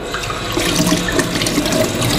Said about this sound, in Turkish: Şuradan azıcık su alayım.